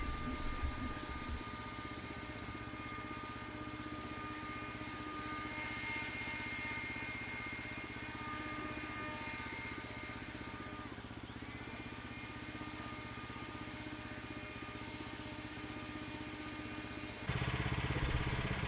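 An HM126 sawmill powered by a 9.5 horsepower Kohler motor drones steadily and loudly throughout, a constant mid-pitched engine roar that shifts to a slightly harsher tone near the end.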